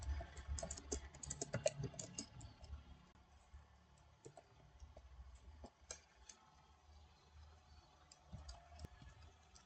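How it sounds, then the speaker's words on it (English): Keys clatter on a computer keyboard as a game title is entered into a search bar, a dense burst of quick taps at first, then sparser, lighter clicks, close and fairly quiet with no voices. "After typing in Sons of the Forest"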